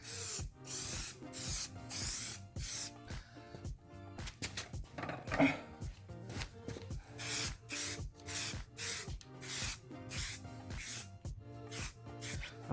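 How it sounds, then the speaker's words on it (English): Rust-Oleum Peel Coat metallic graphite spray paint sprays from a can onto a Mercedes-Benz W204 grille in short repeated hissing bursts, close and fairly quiet, separated by brief pauses, with no talking. "if you're gonna spray a wheel, spray this color"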